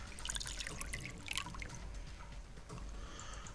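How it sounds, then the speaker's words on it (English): Liquid saline solution pouring into a laboratory beaker as a video game sound effect, a steady trickling stream with faint splashy drips throughout, close and fairly quiet. "I'll just pour in the saline solution"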